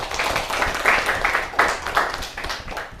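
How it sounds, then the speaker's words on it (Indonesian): A class of students applauds at the end of group presentations in a teacher-certification arts exam session, moderately loud clapping in uneven bursts from a room of people. "Tepuk tangan buat kita semua"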